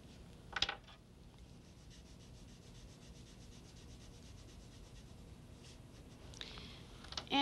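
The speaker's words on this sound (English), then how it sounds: "And we'll draw another lamp." Crayon scratching and rubbing across paper while a doll-house lamp is drawn, a steady quiet scraping texture with a short sharper scrape near the start and a faint tap at the end.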